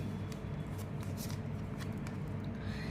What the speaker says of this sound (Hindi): let's get some messages from my tea leaf cards